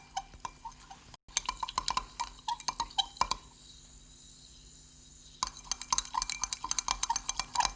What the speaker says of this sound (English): Now we will add magnesium strip into the beaker and start stirring and record the temperature.